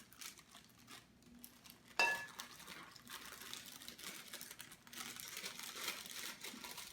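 Dry cake mix is dumped from a crinkling packet into a kitchen bowl, a faint papery rustle broken by one sharp tap, then a soft continuous pouring hiss.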